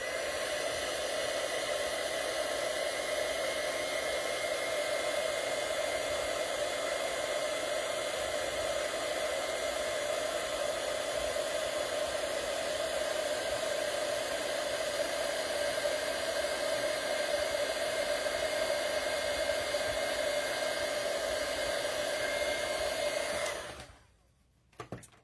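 Heat tool blowing hot air over an embossed card, a steady, loud, close hiss and whine lasting over twenty seconds before cutting off abruptly near the end, with no talk.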